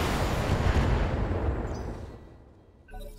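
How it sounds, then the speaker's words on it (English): A barrage of 25 missiles and a PPC shot in the BattleTech game erupts as one loud, rumbling roar of overlapping blasts that swells, then slowly fades, ending with a faint burst and electronic chirps. "let's see if it likes 25 missiles and a PPC shot"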